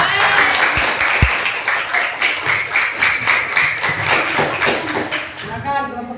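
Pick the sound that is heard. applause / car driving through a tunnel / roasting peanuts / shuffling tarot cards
applause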